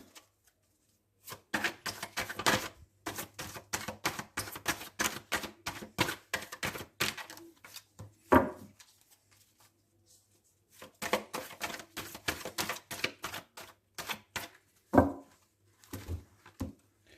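Tarot cards spilling and scattering onto a surface, heard as dense bursts of rapid papery slaps and clatter in two long runs, close and fairly loud, with brief quieter gaps between.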